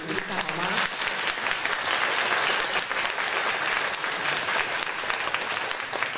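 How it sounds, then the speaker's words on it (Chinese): An audience at a fashion forum during Taipei Fashion Week claps in dense, sustained applause that fills the room at steady loudness throughout. "大家给他们掌声鼓一下好吗？"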